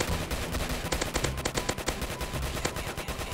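Rapid bursts of automatic gunfire fill the Roblox game Zombie Apocalypse, one steady stream of close shots with no pauses between them.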